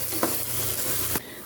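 Rice roasts in ghee in a pan, giving off a steady close sizzle, with two brief scraping stirs breaking through before the frying cuts off.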